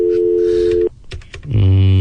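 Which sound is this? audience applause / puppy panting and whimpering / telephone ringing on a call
telephone ringing on a call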